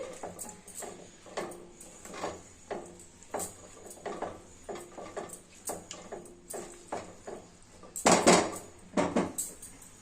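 Metal cooking pot and lid clatter while a bottle gourd curry is made, with repeated light clinks and taps in an uneven rhythm, a louder rattling burst near the eighth second, close and clear with no talk.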